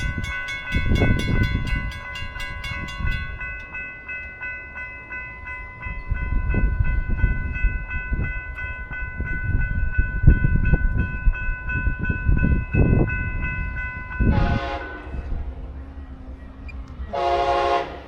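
A Brightline passenger train on the Florida East Coast Railway approaches a transload yard near Cocoa, Florida, rumbling steadily with a sustained multi-tone horn, then two loud horn blasts near the end.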